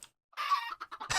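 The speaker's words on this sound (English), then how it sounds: "Whole heap of chickens." Short burst of chicken clucking from the Minecraft SkyFactory modpack, a brief run of game sound effects, loud and close, with no voices.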